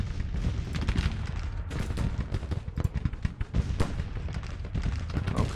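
Cannons and rifle volleys fire in the video game Grand Tactician Civil War, a dense, loud stretch of rapid booms and crackling shots overlapping continuously with no talking.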